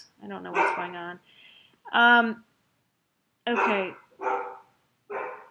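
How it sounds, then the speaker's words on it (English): Dogs barking in short, loud bursts nearby, several separate barks and yips with gaps between, while a person speaks briefly over them. "I apologize for the dogs."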